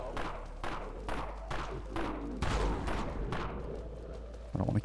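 Full-auto pistol fire in the Dead Frontier video game, six or seven sharp, evenly spaced shots roughly every half second, each with a short ringing tail, followed by a brief clatter at the end; no voices.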